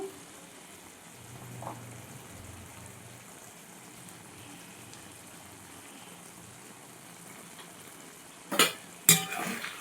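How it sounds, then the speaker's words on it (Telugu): Stuffed eggplants half-cooked in a frying pan give a soft, low sizzle with faint stirring, ending in a couple of sharp spoon-against-pan scrapes, with no one speaking. "పసుపు వేసుకుని ఒకసారి కలుపుకోవాలండి"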